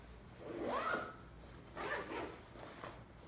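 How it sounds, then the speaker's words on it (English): A zipper on a sturdy dog harness is drawn twice in quick, soft strokes close by, each pass a brief raspy zip in an otherwise quiet room. "Nice sturdy zippers, they work really well."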